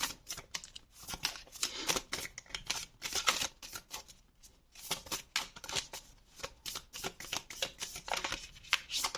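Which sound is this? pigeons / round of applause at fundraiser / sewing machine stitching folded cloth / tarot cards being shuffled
tarot cards being shuffled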